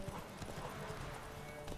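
Galloping horse hooves in the video game The Witcher 3, a quick steady clip-clop rhythm heard close and moderately loud, with no talk.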